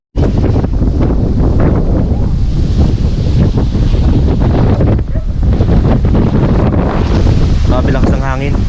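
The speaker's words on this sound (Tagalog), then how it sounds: "Grabe lakas ng hangin." Strong wind batters the microphone in a loud, continuous rumbling roar lasting the whole stretch, with voices faintly audible beneath it.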